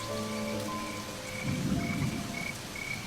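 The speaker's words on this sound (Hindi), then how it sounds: "इतनी बारिश को भी आज ही आना था।" Heavy rain falls in a steady hiss while a low roll of thunder swells up midway and fades, with faint insect chirps threaded through the downpour.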